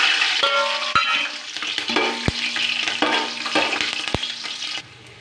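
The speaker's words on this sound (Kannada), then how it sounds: "ಬಿರಿಯಾನಿಗೆ ಬೇಕಾದ ಸ್ಪೈಸಸ್ ಎಲ್ಲ ಹಾಕ್ಬಿಡೋಣ ಎಣ್ಣೆಲಿ ಫ್ರೈ ಮಾಡಿ" Biryani spices frying in hot oil in a pan, with a steady close sizzle and a few sharp stirring scrapes and knocks, no voices.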